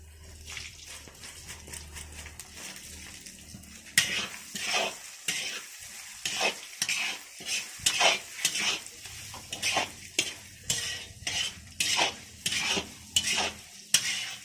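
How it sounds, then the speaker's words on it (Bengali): Lentils sizzle and crackle in a hot pan while a spoon scrapes and stirs in a steady rhythm, growing louder partway through. "ডালটাকে একটু হালকা করে ভেজে নেব"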